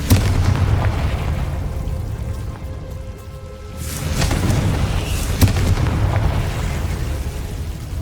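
A Confringo blasting spell from Hogwarts Legacy goes off as a burst of booming explosions, with a loud blast at the start, a quieter lull, then further heavy impacts and a sharp crack midway, without any speech.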